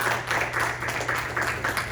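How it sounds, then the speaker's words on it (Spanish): A church congregation claps together during a sermon, a moderate rhythmic applause with a low steady hum underneath, heard somewhat distant and continuous. "Denle un aplauso fuerte a Jesucristo."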